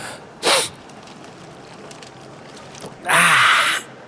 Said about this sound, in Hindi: हाथ सामने रख के छींक बे।